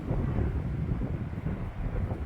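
Strong coastal wind buffets the microphone in a continuous low rumble, gusting steadily with no other sounds standing out.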